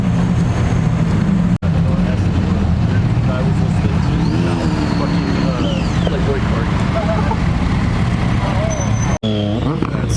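Porsche Carrera GT followed by a Ford GT rolling into an exotic supercar show in Newport Beach, engines rumbling and revving nearby over crowd chatter, with rising and falling pitch as they pass.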